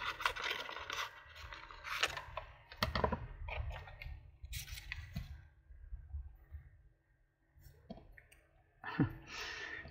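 Paper is trimmed for a handmade zine, giving close, irregular snips, scrapes and clicks in uneven bursts with short pauses between, and no voices.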